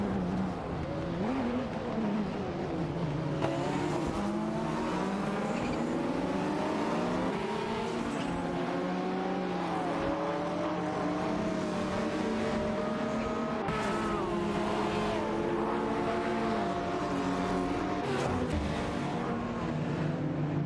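Race cars in a racing video game, engines whining loudly and continuously with pitch sweeping up and down through gear changes, plus bursts of tire squeal as cars battle closely for position, with no talking.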